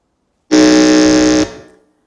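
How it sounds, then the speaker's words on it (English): A quiz contest buzzer for a school team sounds during a pre-round buzzer test at a regional junior high qualifier, giving one loud, steady electronic tone for about a second before cutting off and leaving a short ringing decay. "I want us to test our buzzers. Can we hear the sound from the buzzer"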